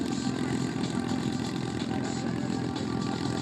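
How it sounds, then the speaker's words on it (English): Radial piston engines of Navy SNJ trainer aircraft flying at an air show, a loud, continuous rough drone with pulsing throb, steady and close overhead. "Sound now of these radial piston engines on Warbird Thunder, Chris Thomas and Mike Eberhard, as they fly"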